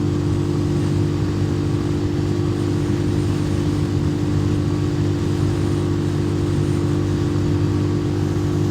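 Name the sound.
motorcycle engine revving while accelerating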